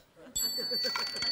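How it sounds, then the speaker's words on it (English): A dinner bell rings with a few bright metallic dings after a quick clatter, sounding close over faint kitchen noise and voices at a beach-themed cooking show. "It is time to ring the dinner bell."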